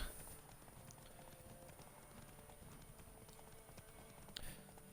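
Steady, rhythmic clip-clop of galloping horse hooves in a video game horse race, over a constant hissing background, with a brief sharper clatter near the end.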